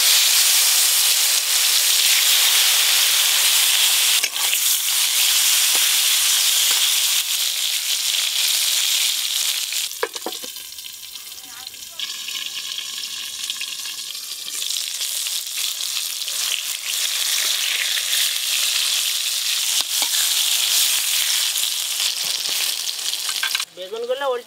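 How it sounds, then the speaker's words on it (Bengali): Brinjal slices fry in hot mustard oil with a loud, continuous close-up sizzle and hiss. The sizzle eases briefly midway during stirring, then builds back to full intensity. "এবার বেগুনটা ভেজে নেব"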